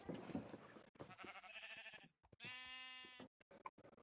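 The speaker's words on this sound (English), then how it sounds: "I have a sheep farm." Sheep in a Minecraft farm bleat in several drawn-out, quavering calls, clear and close, with short pauses between them and no talking.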